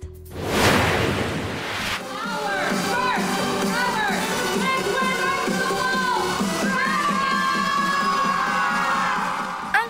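Fans shouting and cheering for the PBB Celebrity Collab Edition big winners Brent Manalo and Mika Salamanca at the big night, a burst of loud screams followed by a sustained roar of crowd noise with voices and whoops mixed in.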